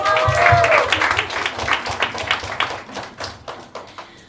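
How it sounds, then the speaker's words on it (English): A small audience at a panel discussion claps, starting as a burst of applause alongside a brief voice, then thinning into scattered, individual claps that fade out over a few seconds. "she deserves a round of applause"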